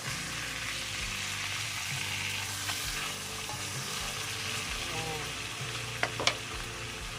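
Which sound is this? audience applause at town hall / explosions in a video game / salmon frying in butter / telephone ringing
salmon frying in butter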